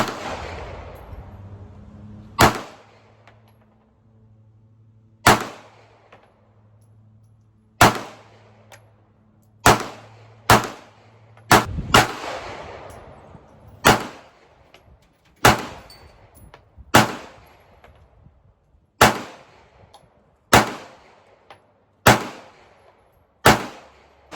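Smith & Wesson Bodyguard 2.0 .380 pistol firing outdoors, about fourteen sharp, loud reports at irregular intervals, each with a short ringing decay, in a mostly quiet setting.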